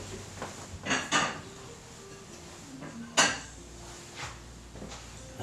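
Plates being taken out to serve slices of chocolate cake: a few soft knocks and clinks of dishes and a cupboard or drawer, quiet and close, spaced across a faint room hum.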